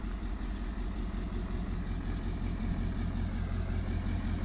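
A diesel engine idles steadily close by, a dense continuous low rumble with no breaks, running with no talk over it.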